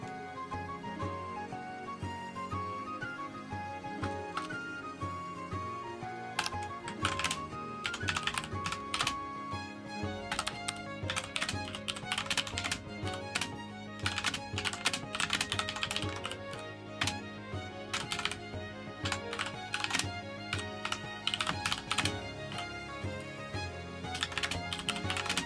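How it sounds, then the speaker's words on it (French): A computer keyboard clatters with rapid, close typing, bursts of crisp key taps coming in quick irregular runs with short pauses between them. "là vous entendez de l'ASMR clavier"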